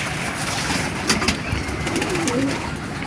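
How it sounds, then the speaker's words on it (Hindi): A pigeon gives soft, low cooing calls against a busy outdoor background hiss, with a few brief sharper noises partway through. "ये कबूतरी है"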